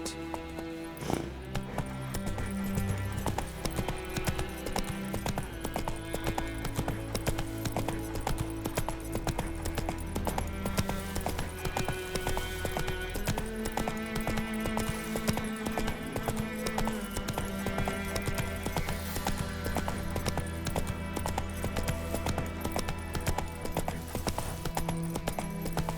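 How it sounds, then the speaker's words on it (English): Horse hooves clip-clop at a steady galloping rhythm in The Witcher 3 video game, continuous and fairly close, layered over a busy musical score. "Whoa there, Roach."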